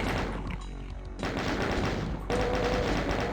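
A chain gun fires in Doom II in rapid, sustained bursts of close, loud shots, with a brief shift in tone partway through and a steady mechanical rattle carrying to the end.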